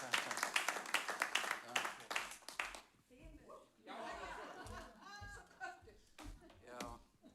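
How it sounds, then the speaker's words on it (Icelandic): A church congregation applauds the speaker, scattered clapping and light laughter rising amid voices after a stretch of talk, fairly faint and mixed with chatter. "Gefum honum gott klapp."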